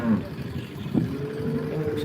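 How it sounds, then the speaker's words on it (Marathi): A Jersey cow at a rural cattle market gives a low moo amid steady crowd and market noise, close and fairly loud. "शेतकऱ्याची गाय आहे बघा"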